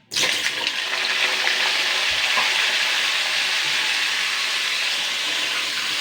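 Peeled boiled potatoes drop into hot oil in a wok with a sudden burst, then a steady, loud, continuous sizzle and crackle that holds without pause.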